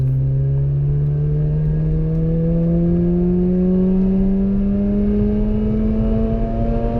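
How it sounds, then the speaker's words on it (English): A streetported Mazda RX-8 rotary engine pulls at full throttle on a wet race track, a loud, steady buzzing wail that climbs smoothly in pitch as the car accelerates, heard from onboard with no talking. "I absolutely love how this car sounds at full throttle, man."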